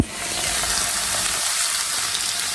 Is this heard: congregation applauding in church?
no